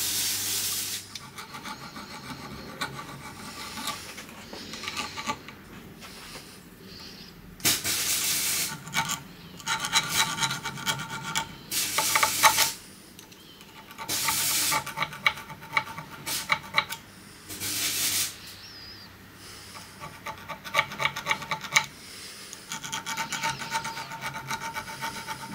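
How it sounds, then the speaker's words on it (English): A boring bar being cleaned up with a hand file, bursts of harsh rasping strokes coming in irregular rhythm, close and fairly loud, with quieter gaps between groups of strokes. "So I'm just going to file clean that up."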